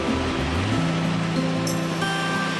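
Firehole Falls, a roughly 40-foot waterfall in Yellowstone, gives a constant, dense roar of falling water close by, steady throughout, with faint tonal background music and no talking.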